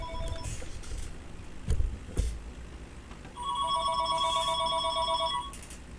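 A telephone bell rings in a long, steady electronic trill that stands out clearly over a low background rumble and a couple of soft knocks, with no one talking.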